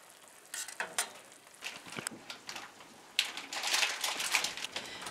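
Onion cooks slowly in about half a stick of butter in a pan over low heat for caramelizing, a soft, close sizzle broken by occasional stirring scrapes and clicks, building slightly louder toward the end.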